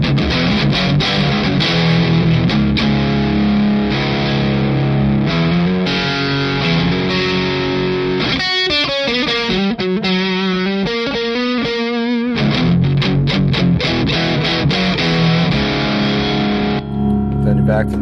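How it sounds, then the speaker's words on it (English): Electric guitar on the neck pickup played through a distortion pedal, thick saturated chords and riffs held loud and continuous, with a stretch of tremolo-like wavering in the middle and no talking over it. "on the neck pickup, listen now, it's got, just doesn't fart out like most distortion pedals"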